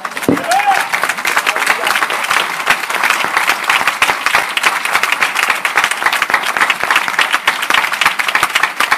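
A church congregation applauds loudly and continuously, dense clapping filling the space with voices shouting within it.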